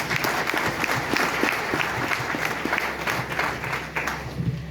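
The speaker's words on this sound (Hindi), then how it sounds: "मैं चाहती हूँ इनके लिए एक बार जोरदार तालियां।" Steady, vigorous clapping from an audience at a Safe Shop business event fills the hall throughout, with a faint voice or two mixed in beneath.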